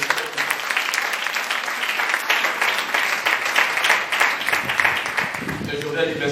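Applause from a church congregation at a worship service, sustained clapping from many people at moderate loudness, with voices audible among the clapping and a livelier swell near the end.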